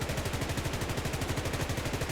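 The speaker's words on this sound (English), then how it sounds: "By the way, here are the cannons." Jet fighter cannons firing in the combat game War Thunder, a continuous, rapid stream of evenly spaced shots with no pause, loud and close throughout.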